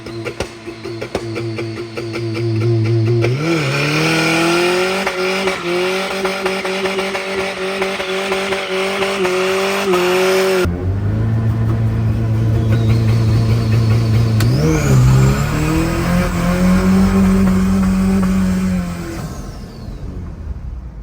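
A turbocharged Toyota Hilux with a 3RZ engine idles, then revs hard and holds high revs through a skid with tire squeal, eases off, and revs up again for a second long loud burst before dropping back.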